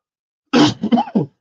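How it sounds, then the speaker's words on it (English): A single throaty cough with a couple of rough follow-up bursts, close to the microphone and loud, set against otherwise silent surroundings. "this cough is still killing me"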